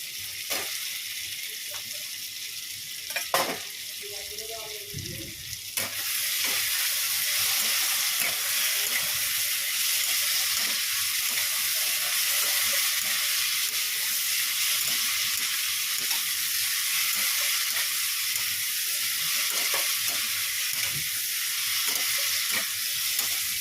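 Potatoes sauté in a pan with a few clinks and scrapes at first, then a sudden loud, steady sizzle and hiss that carries on evenly to the end, with no talking.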